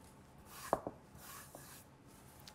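A knife chopping fresh cilantro on a cutting board, a few quiet, crisp taps clustered together and then one more, faint and close in a quiet kitchen.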